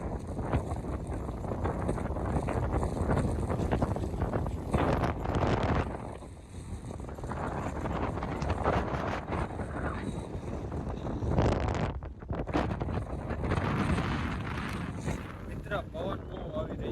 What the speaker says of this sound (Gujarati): પવન બહુ આવી રહ્યો છે